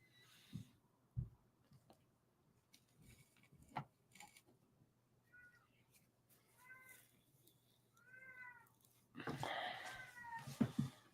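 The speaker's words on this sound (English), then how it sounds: "There goes the cat out of nowhere, starting to meow." Indoors, a cat gives a few soft, drawn-out meows, faint and somewhat distant, among scattered knocks and bumps, followed by louder rustling noise.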